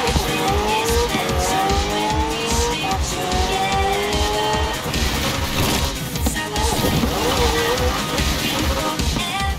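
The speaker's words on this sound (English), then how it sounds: "Finally, the LEGO Speed Champions McLaren Senna." A LEGO Speed Champions McLaren Senna races in Forza Horizon 4 with a constant loud engine roar, rising gear-shift whines and squealing tires, all packed densely throughout.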